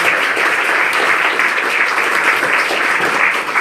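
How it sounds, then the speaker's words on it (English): An audience at a live Tuesday Funk performance event gives a steady, dense round of applause, with many hands clapping loudly throughout. "Can we give a round of applause?"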